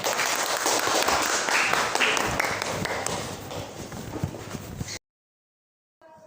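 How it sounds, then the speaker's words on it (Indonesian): Classroom applause during a mathematics teaching session, dense overlapping claps from a group filling about five seconds at steady loudness before cutting to silence. "Beri tepuk tangan buat kalian semua."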